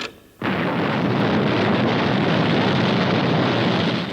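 A mighty rocket blasts off as a loud, sustained roaring rush that bursts in after a brief quiet moment and holds steady to the end.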